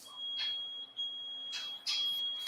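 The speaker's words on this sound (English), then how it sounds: "Your smoke detectors are going to go off." Intermittent high-pitched electronic tone with bursts of hiss, like a smoke alarm chirping in a quiet room; no one speaks.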